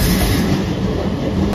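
A Hanshin 9300 series electric train runs at speed, a loud, steady rumble and roar of wheels on track with no pauses.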